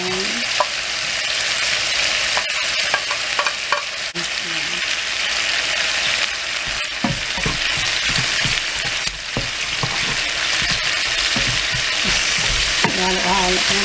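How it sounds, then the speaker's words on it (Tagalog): Garlic sizzles and fries in hot oil in a pan while being stirred for tinolang manok with spinach, a steady close crackle with scraping utensil clicks and someone talking over it. "nagmamantika na siya. Okay, lagyan ko na yung garlic."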